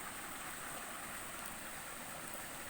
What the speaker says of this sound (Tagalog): Yan ang ating ilog dito idol oh, ang ganda oh.